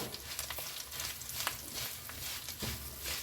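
Chili powder sizzling in hot oil in a pan, a soft steady frying hiss with light crackles, faint and close, with no one talking.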